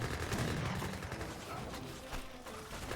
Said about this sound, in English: More Gatling cannons push way forward. You got the war wagon still firing away.